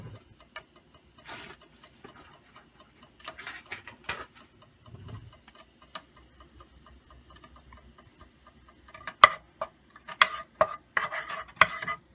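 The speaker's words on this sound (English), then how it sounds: "And I'm going to be giving this a stir." Minced garlic and ginger being stirred in a pan of vegetable oil on medium-high heat, heard as sparse, soft scrapes and ticks over a faint sizzle, with a busier cluster of clatter near the end.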